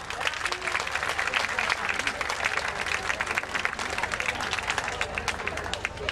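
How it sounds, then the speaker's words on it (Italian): Enthusiastic crowd applause at a dance gala for competing dance couples on the floor, dense rapid clapping with some cheering, steady and full from start to finish. "l'applauso è da fare doppio a queste coppie"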